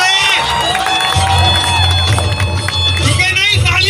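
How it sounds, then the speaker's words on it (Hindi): A crowd cheers and claps at a mallakhamb team show, lively shouting and hubbub under loud music with a sung vocal line, continuous and close throughout. "तालियां बजती रहे"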